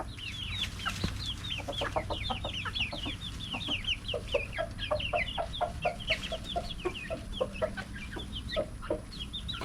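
A flock of chickens clucks and chatters as new hens are introduced to an established group, with many overlapping soft clucks and squawks close by at a moderate volume.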